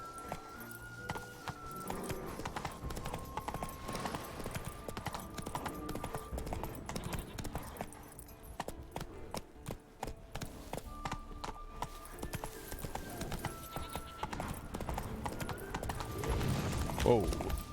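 Roach, the horse in The Witcher 3, galloping with rapid rhythmic hoofbeats over game music and ambience, while a person talks over it.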